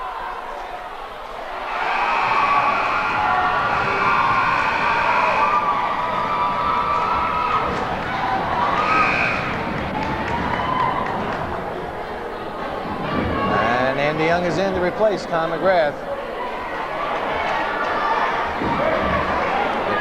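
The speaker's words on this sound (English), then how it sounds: "The crowd really into this game." The crowd at a 1994 high school boys' basketball game, NCCS against Beekmantown, roars and cheers steadily through the whole stretch, with shouts, squeaks and thumps from the court and an announcer talking over it.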